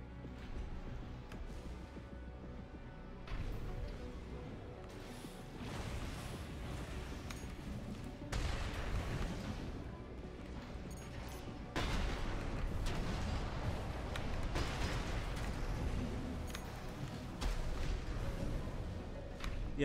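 Explosions and heavy weapon fire in the mech combat video game Armored Core 6; repeated deep booms and bursts of varying strength over a rumbling backdrop, building louder toward the end, with no talking.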